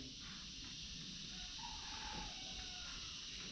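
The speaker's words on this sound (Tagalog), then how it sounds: "Parang mga kuliglig." Steady insect chirping, like crickets, fills the background at night, a faint continuous high trill with some low rumble underneath and no talking.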